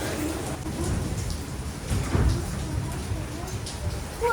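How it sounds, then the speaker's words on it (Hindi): Heavy rain pours down in a sudden storm, a steady loud wash of drops with low rumbling underneath that swells briefly near the middle. "बहुत ही तेज़ शदीद बारिश होना शुरू हो"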